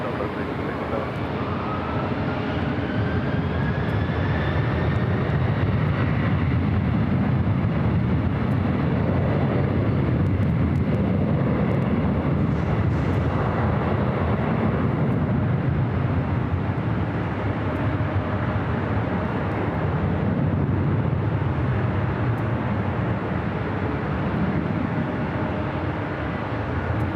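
A heavy airliner rolls for takeoff from runway 24 left at LAX, a sustained loud roar with a rising engine whine, continuous and steady throughout. Radio talk is heard faintly underneath.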